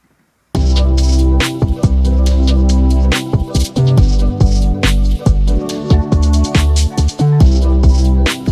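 Full loud mix of marimba melodic notes over chords, a deep bass line and driving drums, starting abruptly after a brief silence.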